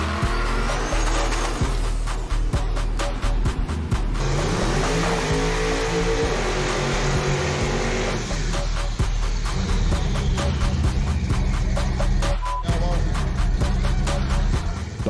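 Two Chevrolet Caprice donks, a green one and a blue 1975, roar side by side in an eighth-mile street drag race, engines blaring loud and steady throughout with rising revs and gear shifts, crowd noise mixed underneath.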